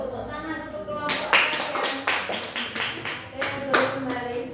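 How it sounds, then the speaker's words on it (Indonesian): A class of schoolchildren claps for a group that has just performed, a sustained burst of irregular hand clapping that swells and fades over several seconds, fairly close and moderately loud. "Tepuk tangan untuk kelompok"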